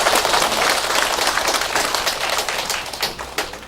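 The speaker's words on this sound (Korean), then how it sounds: "우리 한번 박수로 격려해 주시기 바랍니다" A church congregation claps loudly and steadily to encourage its Sunday school teachers, dense close applause lasting several seconds and tapering slightly at the end.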